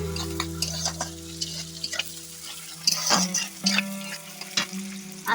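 Onions and spice masala fry in a pan over a wood-fired stove in a village kitchen, a steady close sizzle broken by several louder stirring scrapes and clatters, with no one talking.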